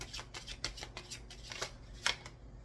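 Tarot cards being shuffled for a Scorpio reading, heard as close, brisk riffling with a run of quick card slaps and a sharper snap near the end, with no talking.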